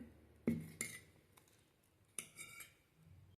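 A spoon stirs salt into paddu batter in a bowl, giving a few sparse, light metallic clinks and taps, fairly close and with no voices.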